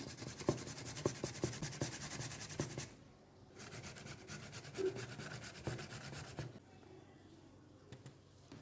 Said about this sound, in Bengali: প্রথমেই কিন্তু আলু দুইটার একদম ঝিরিঝিরি করে কুচাইয়ে নিতে হবে।